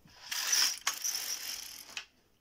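A Silver Reed LK150 knitting machine carriage slides across the needle bed knitting a row, a faint mechanical whirr with soft clicks and a clunk at each end.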